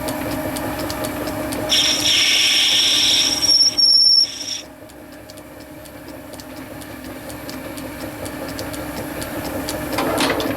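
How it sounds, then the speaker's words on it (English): Metal lathe running with a steady mechanical hum and rumble, joined by a loud high-pitched cutting squeal for a couple of seconds before it drops back to the quieter running drone. "Stop the lathe before you put this on."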